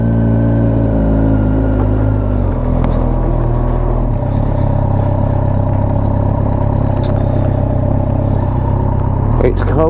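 A motorcycle with heated grips pulls away on a cold, wet, icy Remembrance Sunday memorial ride, its engine rumbling loud and steady throughout with gear changes and rising revs, close to the mic.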